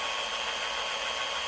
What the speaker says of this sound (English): I have to be really slow in drilling a hole in this cup